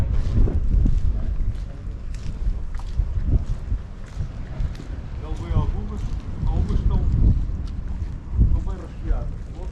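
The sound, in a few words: boat engine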